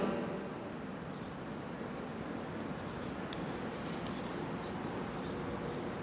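Marker or chalk scratches across a classroom board in steady, rhythmic strokes, quiet and close, with no talking.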